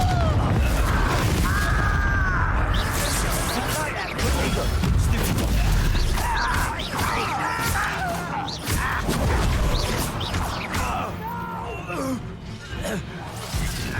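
Confringo fire-blast spells explode during combat in the video game Hogwarts Legacy, with repeated booms and crashes that blend into dense battle noise while characters talk and gasp throughout.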